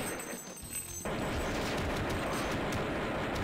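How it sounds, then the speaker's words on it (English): AK-47 gunfire in the Flash game Crazy Flasher 6. A quieter moment breaks into a dense, rapid burst of shots that continues steadily, sounding like sustained automatic fire. "AK-47!"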